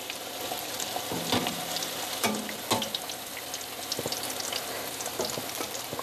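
Amritsari fish pieces fry in a pan with a loud, continuous crackling sizzle, broken by sharp pops and occasional stirring scrapes, with no voices.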